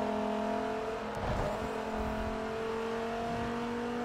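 A GT3 race car's engine drones steadily in Forza Motorsport 3 during an American GT3 Invitational race. The sustained, fairly loud hum swells briefly as another car seems to pass, and no one talks.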